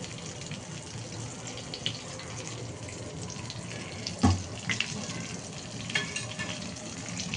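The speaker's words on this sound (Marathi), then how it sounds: "थोडं अजून तेल टाकायचं ह्याच्यामध्ये" Eggplants fry in a pan with oil poured in, a constant close sizzle and bubbling with a brief louder splash and crackle midway and a few small clinks; no speech.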